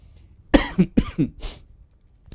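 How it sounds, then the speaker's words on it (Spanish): A short burst of several harsh coughs from a pastor preaching, close by, tapering off into quiet at the end. "Me dio esa tos porque estaba un poco abrigado antes"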